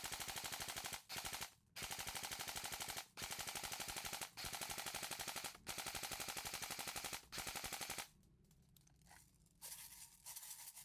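Bolt MK18 electric blowback airsoft rifle firing long full-auto bursts, a dense rapid rattle with bolt clatter, loud and close, broken by short pauses, then falling quiet with faint handling noises.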